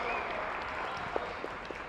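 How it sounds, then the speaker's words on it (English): A basketball crowd at the CCIW Tournament, Wheaton against Elmhurst University, applauds all-conference honorees in a large gym. The clapping is steady and moderately distant, with a few sharper individual claps standing out. "Let's give our all CCIW formers a round of applause"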